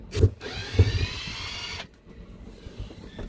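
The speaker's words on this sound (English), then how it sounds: "we get in here with the impact. Take out all these screws." An impact driver backs out screws from a boat's diesel fuel tank access cover during diesel bug sludge cleaning, giving two short bursts of high whine followed by a longer steady whirring run, close and moderately loud.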